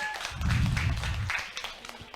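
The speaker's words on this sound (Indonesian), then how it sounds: "Boleh dong tepuk tangan." A seminar audience answers a call with a short burst of applause, dense clapping that swells and then thins into scattered claps over about two seconds.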